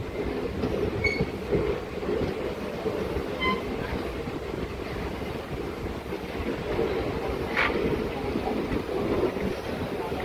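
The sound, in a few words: DEMU local train running on rails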